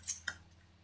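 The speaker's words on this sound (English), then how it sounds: "But now I'm going to grab scissors and cut the corners." Scissors snip the corners off a paper mini album cover, two quick close cuts followed by a fainter third, with a low steady hum underneath.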